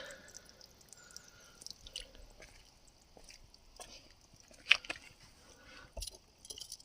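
Faint, irregular water drips leaking from a Sea-Doo Spark watercraft, small splats and ticks scattered across a quiet background with no talking.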